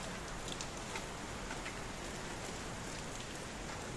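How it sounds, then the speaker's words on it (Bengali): Heavy rain pours down in the Barisal region during a stormy night, a dense continuous hiss of drops striking surfaces, steady and fairly quiet with no voices. "এই রে বৃষ্টি আর বৃষ্টি, প্রচুর বৃষ্টি হইতেছে"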